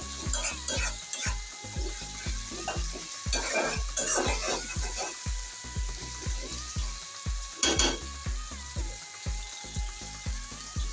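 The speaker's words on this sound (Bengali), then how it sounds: "তো এই তো দেখো আমার মশলাটা কষানো হয়ে গেছে, আরও 2 মিনিটের মতো আমি কষাই নেব।" Masala sautéing in oil for pointed gourd vorta, a steady bright sizzle under regular scraping strokes of a spatula against the pan, close, with a few louder clattering bursts and no talk.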